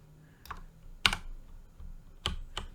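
Keyboard shortcut keys pressed on a computer keyboard, four or five sharp, separate clicks spaced irregularly, close and clear with no talking.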